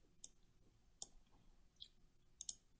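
Faint, sharp mouse clicks while operating structural analysis software, about four quiet ticks spaced irregularly over a low, hushed background.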